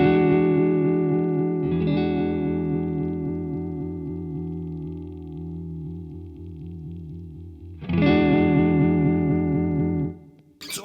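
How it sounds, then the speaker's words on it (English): An electric guitar plays through an MXR Uni-Vibe pedal, sustaining held chords with a sharp, throbbing modulation that pulses deepest in the low end. A fresh chord is struck partway through and rings out, then another near the end. "It's the LFO in a Uni-Vibe is much sharper and much more dramatic around the bottom end."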